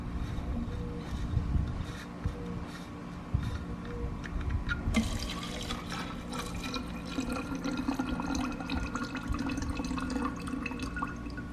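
Liquid drains from an oil catch can on an MK7 Volkswagen GTI after about 3,000 miles of use. It is a close, steady trickle and drip that grows fuller and splashier partway through.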